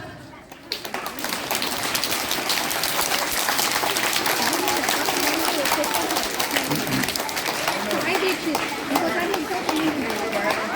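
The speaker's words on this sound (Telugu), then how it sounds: "Give a big round of applause." A crowd at a school Children's Day event bursts into sustained applause, dense clapping rising after a brief start and holding steady throughout, with chatter and voices mixed in.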